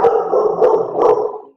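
Several loud, close barks from dogs indoors, coming in quick bursts one after another with short gaps and no voices over them.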